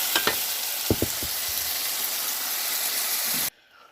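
Tofu and cabbage sizzle loudly in a hot pan with soy sauce, a steady close frying hiss broken by a few clinks of stirring, cutting off abruptly near the end.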